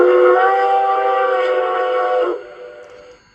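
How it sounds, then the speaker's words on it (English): A long steam whistle from an LGB 2019S model mogul locomotive fitted with a Zimo decoder sounds loud and steady for about two seconds with no talk over it, then cuts off and fades away. "F3 is a long whistle."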